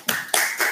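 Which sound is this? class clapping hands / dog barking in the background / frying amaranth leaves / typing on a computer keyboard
class clapping hands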